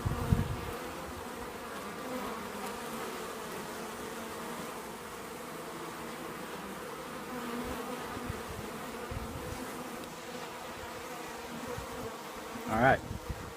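Honeybees from a package buzz in a continuous, even hum near a queen cage, close and steady throughout, with a brief louder knock near the end.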